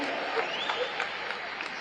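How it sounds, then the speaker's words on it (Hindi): An audience at a Hindi comic poetry gathering (kavi sammelan) breaks into quiet, continuous applause mixed with crowd murmur, heard faintly and at a distance. "ताली बजाओ, सांस लेना है।"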